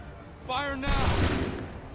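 Musket volley in Assassin's Creed 3 erupts as a single loud, crackling burst of many guns firing at once, trailing off over a second, just after a shouted command.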